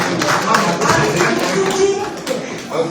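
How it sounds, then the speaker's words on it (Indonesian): Applause from the congregation at a church service breaks out in a brief burst of clapping, with a voice speaking over it. "Tepuk tangan Bang Putih."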